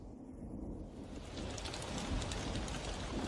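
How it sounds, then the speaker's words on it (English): Steady, dense monsoon rain in Thailand's tropical wilderness hisses continuously, building slightly louder midway, with no voices present. "The monsoon rain feeds the tropical flora and fauna."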